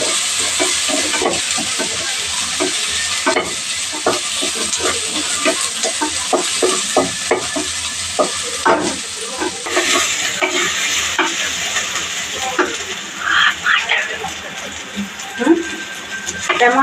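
Vegetables and green chillies fry in ginger garlic paste for a semiya Maggi dish, with a steady sizzle under quick, rhythmic clacks and scrapes of a spoon stirring the pan, close up and fairly loud.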